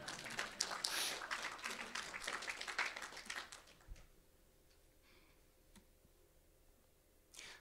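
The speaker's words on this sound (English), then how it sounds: "You can applaud now." Audience applause at a tech conference talk on open-source security, a burst of clapping from the crowd for about four seconds that fades into quiet room tone, with a brief tap near the end.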